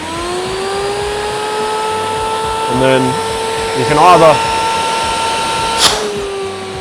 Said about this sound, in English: doing a filter clean, turn the vacuum on.